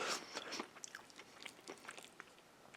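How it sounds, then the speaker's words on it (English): Crunchy green beans from an MRE cold-weather spicy oriental chicken meal being chewed up close, a steady run of crisp bites and crunches that fades slightly toward the end. "The green beans still have a little bit of crunch to them,"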